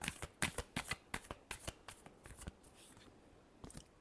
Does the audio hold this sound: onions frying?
no